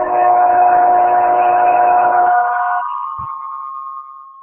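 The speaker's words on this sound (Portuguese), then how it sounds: "É o trem aqui. Eu moro no interior, aqui passa trem" A train passes near a house in the countryside, its loud sustained horn blaring for about three seconds before fading into a lower, quieter tone, with no talking.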